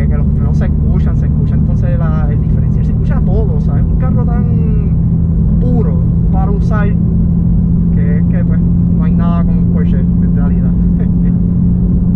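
A 2016 Porsche 991.1 GT3 RS engine drones in a steady low rumble inside the cabin while someone talks continuously in Spanish over it.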